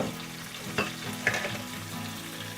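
Chopped carrots dropped into spices frying in a pan for vegetable samosa filling, a steady loud sizzle with a couple of sharper hissing bursts as the pieces hit the hot oil.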